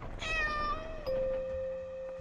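A cat meows in the video game Layers of Fear, two drawn-out, tonal meows in quick succession, fairly close and clear, the second settling into a long sustained cry over faint background ambience.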